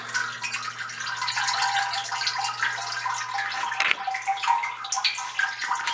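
Honey draining off wax cappings, heard as a steady close trickle and drip with faint gurgling that runs without a break and has no voices over it.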